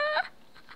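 A chicken in the video game Totally Accurate Battle Simulator gives a single short, fairly faint cluck that fades quickly.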